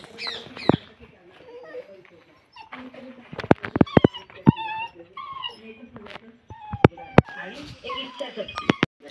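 A dog whimpers and yips in short, high whines, mixed with people talking nearby.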